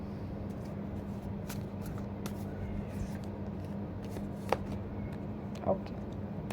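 Tarot cards are shuffled close by in a soft, continuous riffling and sliding with a couple of sharper taps toward the end, quiet and without talk.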